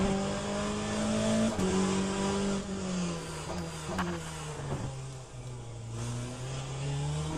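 Race car engines howl through a racing video game, a loud sustained whine rising and falling through gear changes and revs, with a brief tire squeal mixed in.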